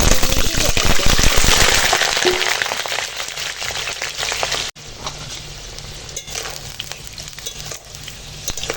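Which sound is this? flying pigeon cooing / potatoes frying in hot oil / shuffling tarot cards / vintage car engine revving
potatoes frying in hot oil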